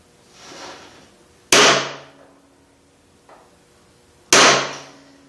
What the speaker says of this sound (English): I need to center punch this